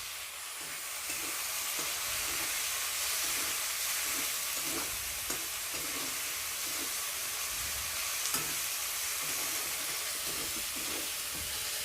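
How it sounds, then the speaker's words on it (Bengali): Garlic and ginger paste frying with browned onions in a kadai wok gives a steady, close sizzling hiss, broken by regular soft scrapes and knocks of a spatula stirring, with no talking. "এরপর আমি ওই কড়ার মধ্যে দিয়ে দিলাম রসুন বাটা, আদা বাটা দিয়ে এটাকে আবার ভালোভাবে নেড়ে চেড়ে ভাজবো।"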